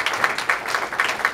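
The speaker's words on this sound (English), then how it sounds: "If you receive it, clap your hands and give God praise" Church congregation claps hands in praise, a dense patter of many hands at a steady rhythm, fairly loud and close, with faint voices underneath.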